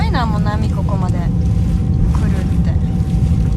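Waves slap and rush against the hull of a ferry crossing to Green Island, Taiwan, with a constant loud engine-and-water roar; voices talk briefly near the start over the churning.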